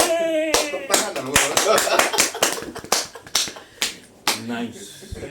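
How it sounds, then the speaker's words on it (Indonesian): Sharp hand claps and snaps in an irregular burst during a Ramadan podcast chat, close and loud, mixed with voices talking and laughing between the claps. "Tepuk tangan dong."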